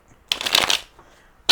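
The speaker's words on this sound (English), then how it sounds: "I'm going to shuffle them one more time" A quick riffle of playing cards being shuffled, a brief papery flutter, followed by a second short riffle starting at the end.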